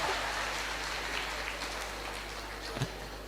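An audience applauds together, a dense wash of claps heard throughout, slightly fading over the short stretch, with a steady low hum underneath.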